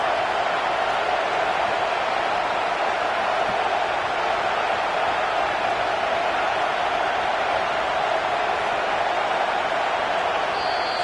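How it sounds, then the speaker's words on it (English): Steady roaring wash of a large football stadium crowd during a field goal attempt, Texas A&M against Georgia, loud and unbroken throughout with no distinct voices standing out. "This crowd trying to do its part to get inside the kicker's head."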